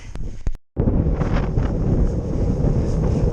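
Strong wind buffets the microphone while cycling on a foggy, damp hilltop near a transmitter aerial, a loud roaring rush after a brief dropout, gusting unevenly and close.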